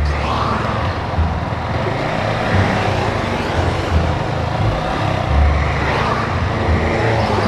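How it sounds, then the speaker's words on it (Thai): Dense rush hour road traffic rumbles continuously as cars pass nearby, forming a loud, steady wash of engine and tyre noise with no pauses. "รถค่อนข้างที่จะเยอะนะครับช่วงเวลาชั่วโมงเร่งด่วนนะครับ"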